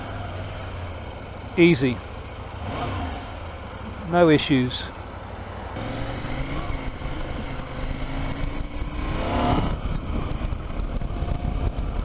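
A KTM 790 Adventure motorcycle rides through city traffic, its engine a steady mid-level drone with passing vehicle noise around it, while the rider speaks briefly.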